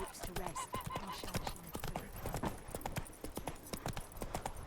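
Horse hooves clip-clopping in the video game The Witcher 3, a fast steady train of hoof knocks running throughout beneath ongoing talk and game noise.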